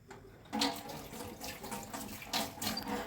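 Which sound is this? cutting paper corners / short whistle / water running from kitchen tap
water running from kitchen tap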